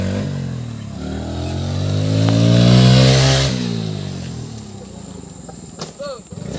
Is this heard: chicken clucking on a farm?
no